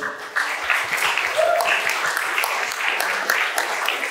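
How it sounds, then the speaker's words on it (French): An audience applauds a guest, an agronomist engineer, at a talk, giving a steady, fairly close wash of many hands clapping that holds evenly for several seconds without talk. "vous pouvez l'applaudir"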